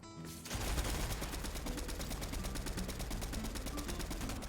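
Rapid automatic gunfire in a competitive shooter video game as a gas can is shot, a dense continuous burst of fast regular shots that starts abruptly and runs loud throughout.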